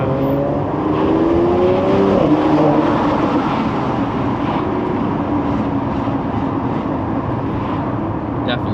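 Mercedes C43 with a resonator-delete exhaust roaring past outside, a loud continuous engine drone and growl that stays strong throughout with slight pitch shifts, with people talking faintly underneath.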